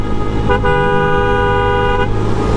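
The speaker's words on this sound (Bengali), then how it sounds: "তাও হর্ন দিতে হয়" A car horn on a busy road sounds one long, loud, steady honk of about a second and a half over constant traffic and engine rumble, with no talk.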